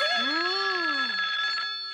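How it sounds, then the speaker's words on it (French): A telephone rings in a cartoon restaurant, a steady electronic tone held for about two seconds with sweeping warbles beneath it, close and clear with no talk. "Le téléphone sonne encore."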